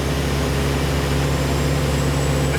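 A big block engine on a dyno drones loud and close with a steady low hum and a rising whine from the turbo spooling up, no voices over it.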